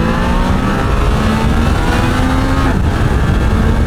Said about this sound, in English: and that motor is really quite wonderful. I mean, it wasn't a throw your heart into the back of your pants kind of a feeling as I jammed in the acceleration there